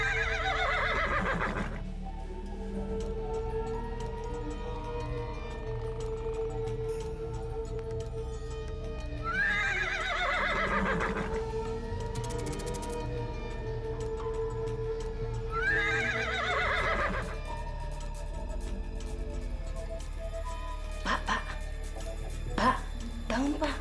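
A horse neighs three times in loud, close, drawn-out whinnies spaced several seconds apart, over a steady low background hum, with a faint rustle near the end.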